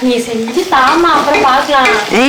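Chicken sautéing in a home kitchen pan gives a steady, close sizzle with stirring, while a tonal, voice-like hum rises and falls over it throughout.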